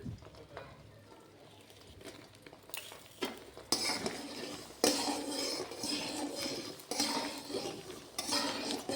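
Onion and garlic frying in a pan while being stirred, with scraping and clinking of a utensil against the pan over a steady sizzle, strokes getting louder and more frequent partway through.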